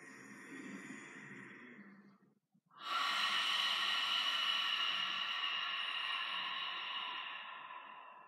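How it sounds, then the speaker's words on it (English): During seated chi kung practice, a soft close breath is drawn in, then after a brief pause a longer, steady airy inhale follows, quiet and hissy with no talking. "Inhale in."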